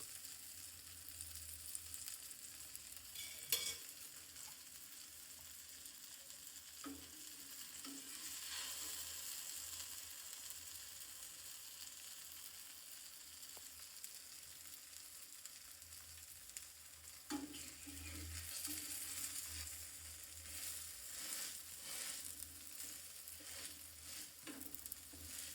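Millet flour pudla frying in oil on a pan in a village-style kitchen, a soft continuous sizzle with scattered light crackles and a few faint taps, quiet and distant, without speech.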